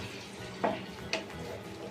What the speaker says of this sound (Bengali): দেখুন নাড়ছি, হ্যাঁ, ভালো করে কষিয়ে নিই